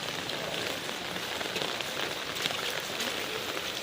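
Rain falls steadily during a red alert downpour, a dense, continuous patter and hiss on surfaces with no voices, holding even from start to finish.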